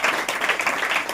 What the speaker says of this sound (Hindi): जोर से ताली बजाकर